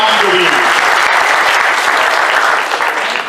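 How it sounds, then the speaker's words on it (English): Steady, dense applause from a crowd at a Transformers fan convention panel, loud and continuous throughout, tapering slightly toward the end. "Give them a big round of applause"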